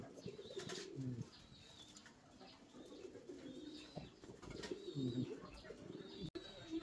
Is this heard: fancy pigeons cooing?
yes